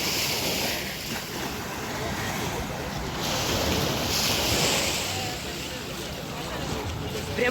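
Sea waves wash continuously onto a wide, long tourist beach at Side, Turkey, a broad, steady hiss of surf mixed with wind buffeting the microphone and no clear breaks.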